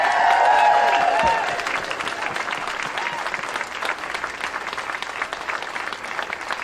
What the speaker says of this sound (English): My applause for all of you for being here.